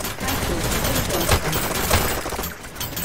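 Rapid submachine gun fire in the futuristic VR arena shooter Hyperdash, a dense loud rattle of shots mixed with game effects and match noise from the start to the end.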